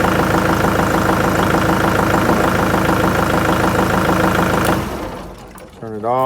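Kubota tractor diesel engine idling with a steady, close, loud chugging rhythm, then cutting off near the end and leaving a short quieter tail.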